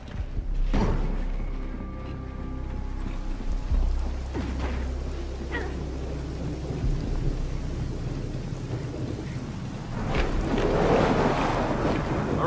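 A windflare storm in Gears of War 4 roars with rumbling, thunder-like booms and rushing wind and rain, loud and continuous with heavy low-end surges.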